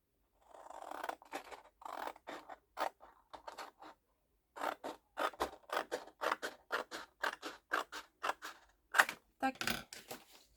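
Scissors snip through paper for a sea-themed scrapbook album, a run of crisp close cuts in uneven rhythm with a short pause partway, then a steady series of sharp snips.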